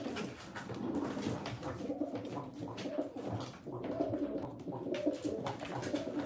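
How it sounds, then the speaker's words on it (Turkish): Pigeons coo repeatedly at close range in a loft, soft throaty rolling calls overlapping one another over a busy background of rustling and shuffling. "Kuşlar gerçekten güzel. Bomba kuşlar."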